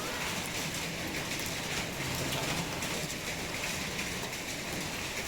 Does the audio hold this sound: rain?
yes